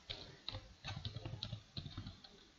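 Typing on a computer keyboard: a quiet, close run of uneven key clicks in a steady rhythm, heard alone.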